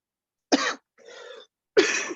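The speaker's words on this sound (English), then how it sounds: "let me clear my throat first" Someone clears their throat in two rough, close bursts separated by a breathy pause.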